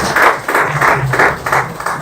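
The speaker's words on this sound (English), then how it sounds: "Please stand up and give them a round of applause." A round of applause from a seated-then-standing audience at a real estate sales seminar, steady clapping in rhythmic surges, fairly loud and close, with no talking over it.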